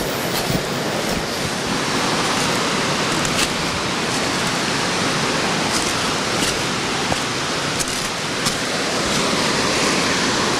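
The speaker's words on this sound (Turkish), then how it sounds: "Hemen şimdi şelale var burada, bu şelaleye bakalım." A waterfall in Tekmezar canyon gives off a loud, unbroken roar of rushing water, a dense steady wash with no pauses, heard close up.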